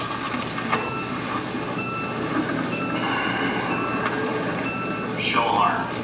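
A moving bullet train used as a sound effect gives a steady rolling rumble with faint tonal whine and occasional clicks, moderately quiet and continuous throughout.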